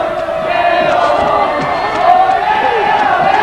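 A crowd of Kieo supporters sings in chorus to celebrate a goal at a boys' regional football match, producing a dense, continuous wash of voices with rising and falling sung tones.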